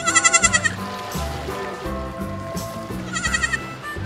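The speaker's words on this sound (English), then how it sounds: "Goat." A goat bleats in short, loud, wavering calls, a burst at the start and another near the end, with a soft music bed playing underneath.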